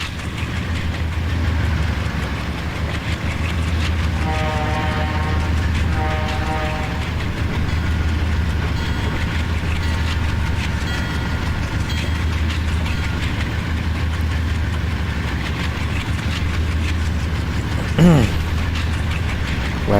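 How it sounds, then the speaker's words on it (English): A diesel Alco locomotive engine in the Trainz game idles with a steady low rumble, joined midway by a brief horn-like tone and a short rising whine near the end. "I hate the default Alco engine sound"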